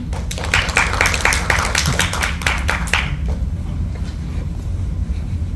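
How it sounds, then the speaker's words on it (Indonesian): An audience at a public speaking class claps in a short burst of quick, sharp hand claps over a steady low rumble, fading out after about three seconds. "Tepuk tangannya teman-teman."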